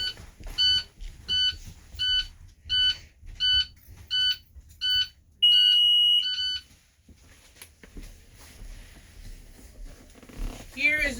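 A school bus alarm sounds after the bus is switched off, a series of regular electronic beeps followed by one longer sustained tone, then stopping; a voice talks quietly underneath.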